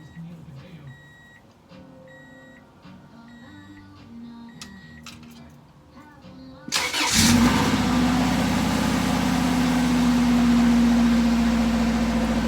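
A car engine starts partway through during a check for a stuck brake caliper, giving a sudden loud catch that settles into a steady, close idle after quieter background sounds.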